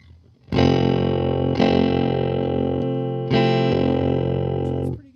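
Guitar played through an EarthQuaker Devices Hummingbird tremolo pedal at its highest speed: loud, sustained distorted chords with a rapid pulsing shimmer, struck three times, close and with no voice.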